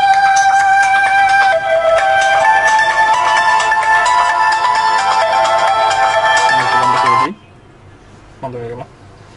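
Walton Primo X2 smartphone ringtone during a call, a loud bright melodic tone pattern repeating steadily for about seven seconds before cutting off, followed by a quiet pause and a brief voice.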